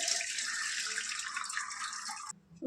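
Cooked goat tripe liquid from a pressure cooker strained into a bowl, a steady close splashing pour lasting a couple of seconds before cutting off, followed by a brief clink.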